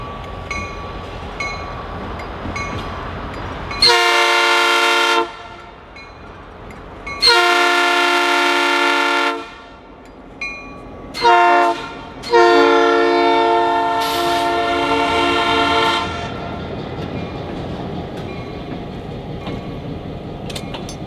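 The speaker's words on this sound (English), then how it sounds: "5000 will clear the M&M switch and will then pull a single covered hopper about a mile north to a runaround track" Southern Railway locomotive 5000 pulls a single covered hopper near the M&M switch, sounding long blasts of its multi-chime horn in a repeated pattern over a steady diesel engine rumble, loud and close.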